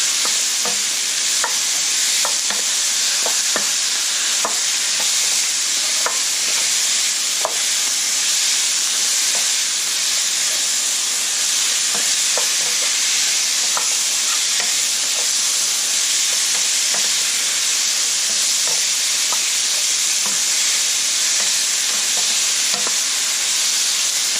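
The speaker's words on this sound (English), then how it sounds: "Cook the riblets for a few minutes before you put all the other ingredients in." Pork riblets frying in a pan, a steady loud sizzle and hiss of hot oil running throughout, with occasional soft stirring clicks and pops on top.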